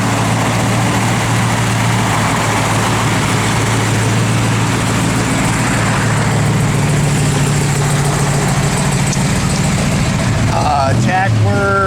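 The 454 big-block V8 in a 1969 Chevrolet Camaro RS/SS idles with a steady, loud, low rumble, then a brief mechanical rattle near the end.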